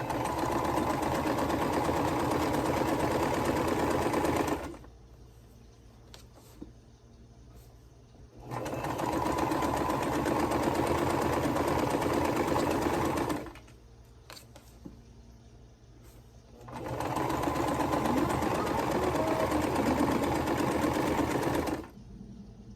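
A sewing machine stitches quilt block fabric using a seam guide, three long steady runs of close mechanical whirring separated by quiet pauses with small handling clicks.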